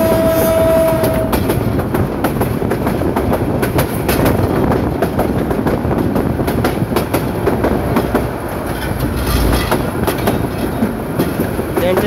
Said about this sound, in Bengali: বন্ধুরা কুইটা এক্সপ্রেস ট্রেনটি সামনের দিকে এগিয়ে চলছে, এই যে দেখতে পাচ্ছেন।